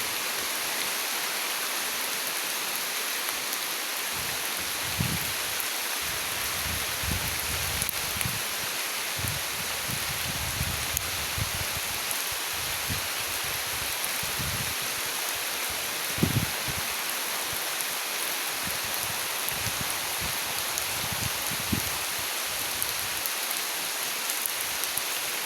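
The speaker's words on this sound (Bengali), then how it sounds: "আর বেশি দূর যাওয়া যাবে না, অনেক বৃষ্টি।" A steady downpour of heavy rain, continuous broadband hiss with scattered drips and splashes and faint low rumbles underneath, no voices.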